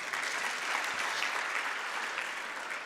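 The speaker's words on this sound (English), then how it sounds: "I think I deserve a round of applause for that." An audience at a university faculty research day bursts into steady, dense applause, a continuous wash of many hands clapping at moderate volume throughout, with no voices standing out.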